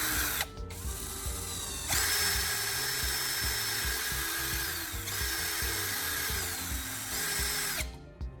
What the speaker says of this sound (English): Now we'll secure in the drill chuck to grind down the tip of the threads